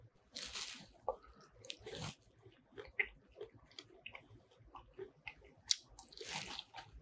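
Close, crunchy chewing of stir-fried pork wrapped in pickled perilla leaf, with repeated bites and squishy mastication in an irregular rhythm, faint background noise and no talk.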